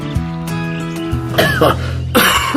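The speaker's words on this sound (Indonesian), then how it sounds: "Oh, batuk." A short cough cuts in over background music, followed by a second harsher cough or throat clear a moment later.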